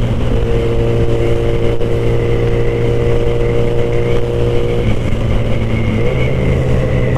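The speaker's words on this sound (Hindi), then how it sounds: "देखो भाई थोड़ी सी मैं एक्सीलेटर दूंगा, बाइक 80-90 जा रही है" A Suzuki Hayabusa superbike engine drones steadily and loudly while riding at speed, its sustained roar shifting slightly in pitch near the end.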